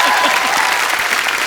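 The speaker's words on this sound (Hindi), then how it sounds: "ठोको ताली" A studio audience at a comedy talk show applauds, with dense steady clapping filling the whole moment at close range.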